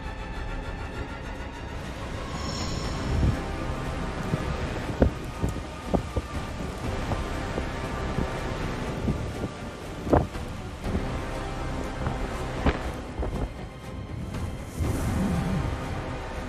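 Strong typhoon wind roaring steadily and loudly, with buffeting gusts and rumbling surges throughout, no voices.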